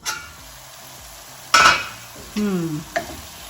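Masala for sarson ka saag cooking in a pan, a quiet background sizzle broken by a few loud stirring scrapes and clanks of a utensil against the pan.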